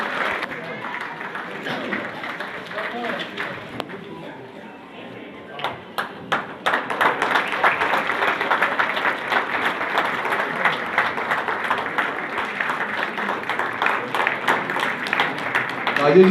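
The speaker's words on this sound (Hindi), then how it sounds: "सभी जोरदार ताली बजाएं।" Audience applause at a Sindhi community women's honour ceremony, beginning as light scattered clapping under a voice on a loudspeaker, then swelling into steady, loud crowd clapping that continues to the end.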